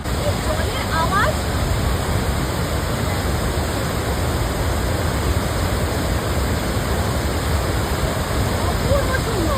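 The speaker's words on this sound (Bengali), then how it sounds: "জলের আওয়াজ।" The Usri Falls waterfall near Dhanbad pours with a loud, constant, dense roar of rushing water, close and unbroken throughout.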